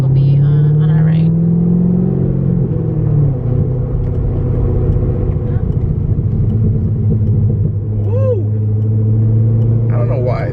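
A Chevrolet Corvette C6 Z06 engine rumbles loudly and steadily, its pitch rising and falling as the exhaust revs, with brief voices and exclamations on top.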